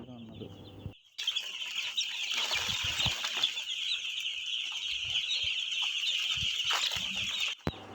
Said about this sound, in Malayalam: 5 ദിവസമായ കോഴിക്കുട്ടികളാണ് നമ്മളിപ്പോൾ കണ്ടുകൊണ്ടിരിക്കുന്നത്